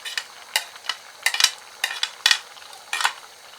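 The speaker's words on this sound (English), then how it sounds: "Stir it properly." Plantain pepper soup with fish and fresh vegetables being stirred in a pot, giving a series of soft scraping and clinking strokes at an irregular pace, close and moderately loud with no voices.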